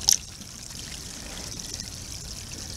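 A teaspoon of pool water is poured into a small test vial, making a soft, steady trickle that lasts the whole stretch, with a brief clink at the start.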